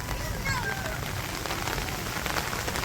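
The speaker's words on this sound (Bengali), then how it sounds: "এমন একটা সময় বৃষ্টি নামলো" Steady rain pours down in a Bangladeshi village during the rainy season, a dense, even hiss of drops drumming on surfaces close by, with faint voices under it.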